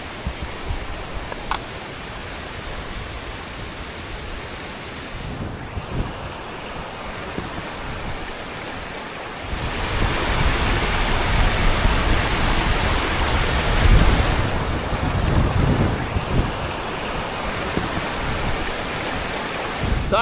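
Chile's largest river rushes through a narrow pinch near waterfalls in Patagonia, a loud continuous roar of water that swells and grows heavier midway.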